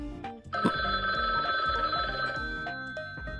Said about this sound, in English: That fucking ringing sound's like getting me.